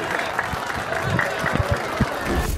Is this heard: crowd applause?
yes